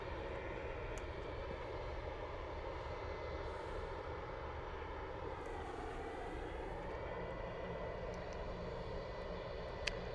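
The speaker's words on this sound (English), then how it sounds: "Beautiful arrival from the Aer Lingus ATR 72600." An Aer Lingus ATR 72-600 turboprop arriving from Dublin, heard as a quiet, steady droning hum with a slowly shifting tonal whine, distant and even throughout.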